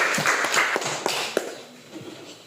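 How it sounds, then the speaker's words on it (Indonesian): A classroom of students gives a short round of applause, a scattered burst of hand claps that fades out within a couple of seconds. "Ya, berikan tepuk tangan untuk kalian."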